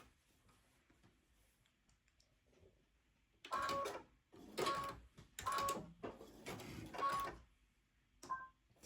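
A domestic sewing machine stitches decorative cotton fabric onto a plain holiday stocking, running in four or five short, loud bursts with brief pauses between them, close by and alone.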